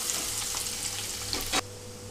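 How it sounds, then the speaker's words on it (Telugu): Onions frying on a low flame for Bendakaya fry, a steady broad sizzle running throughout, close and fairly quiet, with a brief stir or scrape near the end before the sizzle settles slightly softer. "ఇక్కడ ఉల్లిపాయలు వేసిన తర్వాత లో ఫ్లేమ్లో ఉంచి ఒక 2-3 నిమిషాల పాటు వేయించుకుంటున్నానండి."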